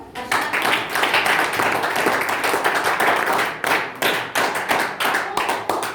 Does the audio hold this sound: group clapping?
yes